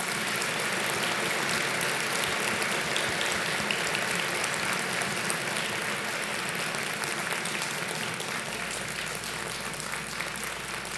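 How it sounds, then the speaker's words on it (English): Sustained applause from an audience at an economic outlook event, honouring a departing board chair; a thick, even wash of clapping that holds steady and fairly loud for the full eleven seconds. "how about a round of applause for Steve Allen"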